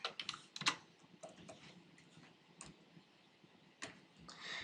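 Quiet keystrokes on a computer keyboard while HTML and CSS code is typed, a few clustered taps at the start, then sparse clicks, with faint background noise and no talk.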